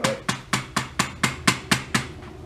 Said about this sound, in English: give it a little tap with a nylon hammer that won't mar